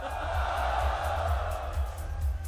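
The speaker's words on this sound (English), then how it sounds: "Now, Maxter, we do have an amazing crowd here" An esports audience at the CS:GO Asia Championships in China roars in a steady, dense wash of cheering and crowd noise before a quarterfinal, loud and sustained with no clear breaks.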